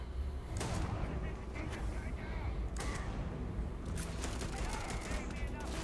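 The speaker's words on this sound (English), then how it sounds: "I love this 1911 style pistol." Repeated pistol shots from a 1911-style handgun in the video game Starfield crack over a busy background of game effects and music, fairly quiet overall.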